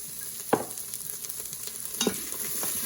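Onions frying and sizzling in a pan for a vegetarian curry, with two distinct stirring scrapes standing out over a steady background hiss.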